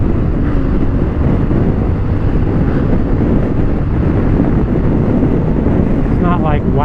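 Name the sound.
Honda Africa Twin motorcycle engine at freeway speed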